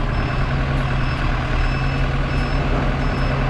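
A truck's reversing alarm beeps at a steady even pace over a loud idling diesel engine rumble as the truck backs up during yard work.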